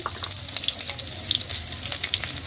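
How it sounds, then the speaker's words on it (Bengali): Chopped onions hit a hot pan and fry with a loud, crackling sizzle. Sharp little pops and spatters rise over a constant hiss, and no one speaks. "তো সামান্য পেঁয়াজ কুচিগুলো দিয়ে দিলাম।"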